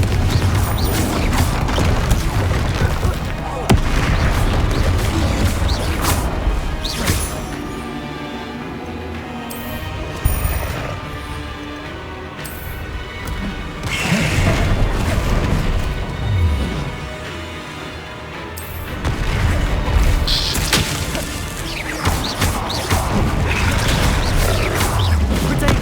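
Repeated Confringo blasting-spell explosions in Hogwarts Legacy, sharp cracking bursts and booms recurring through a busy combat soundscape with music-like tones beneath, loud and close, no talk.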